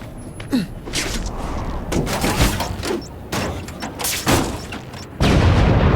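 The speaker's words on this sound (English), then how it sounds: "Friendly neighborhood fireworks." Fireworks burst during a Spider-Man video game cutscene: a dense run of booms, crackles and sharp pops at close range, ending in a loud sustained roar.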